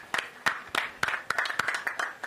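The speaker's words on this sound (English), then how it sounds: "All right, let's give them a round of applause again." Scattered hand clapping from a small crowd at an outdoor ground-breaking ceremony for a hybrid renewable energy and battery project, a loose, uneven run of distinct claps lasting a couple of seconds.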